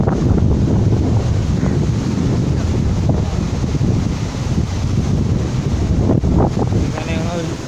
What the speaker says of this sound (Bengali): আপনারা এখন দেখতেই পাচ্ছেন হেভি ওয়েদার, আর তার সঙ্গে হাওয়াও বাম্পার চলছে।